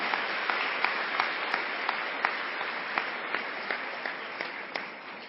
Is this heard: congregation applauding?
yes